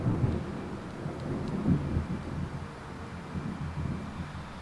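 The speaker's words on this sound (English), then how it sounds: "So I just heard a rumble of thunder there and some lightning." Low rolling thunder over a rainy forest at a wild campsite, a long deep rumble that swells and fades with steady rain hiss underneath.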